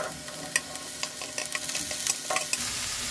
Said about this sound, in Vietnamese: Đảo đều cho chiên hỗn hợp rau củ.